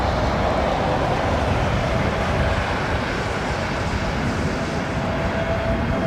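A Boeing 737 MAX comes in to land at London Heathrow, heard as a steady, loud, broadband jet roar that holds evenly throughout with no talk over it.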